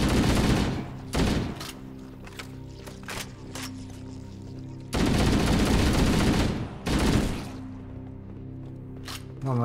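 Gunfire in the video game Halo, loud bursts of rapid automatic fire in several clusters broken by short quieter gaps, close and harsh, with no voices over it.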